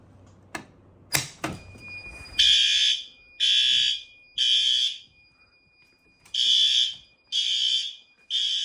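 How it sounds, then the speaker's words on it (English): Fire alarm horns sound during an annual building fire alarm test: a few sharp clicks, then loud, piercing horn blasts pulse in a steady on-off rhythm, about six bursts, close by. "Fire alarms are active."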